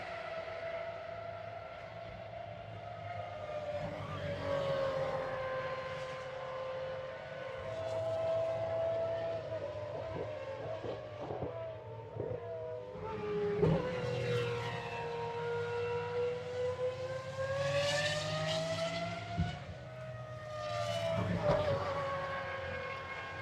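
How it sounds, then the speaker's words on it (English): Pagani race cars accelerate around the Barcelona circuit during a GT World Challenge race, their engines rising and falling in pitch as they sweep past in sustained, moderately distant passes with no talk. "let's just listen in as the Paganis accelerate around nearly a 5-kilometre long"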